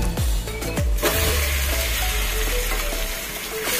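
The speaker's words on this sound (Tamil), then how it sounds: "அது இந்த எண்ணெயிலே நல்லா வதக்கணும்." Marinated chicken dropped into hot oil over fennel seeds, a loud continuous sizzle and crackle with a few sharp clatters near the start, close up and without speech.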